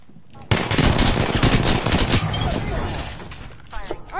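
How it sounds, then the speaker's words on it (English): Dense, loud automatic gunfire from the battle royale game Apex Legends erupts after a brief quiet start and keeps up in rapid overlapping bursts, with a player's voice partly buried beneath the shooting. "I'm being shot at."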